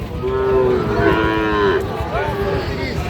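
A young bull calf moos loudly and close by in long, drawn-out calls, with a second lowing call following, over a steady murmur of background noise at a cattle market.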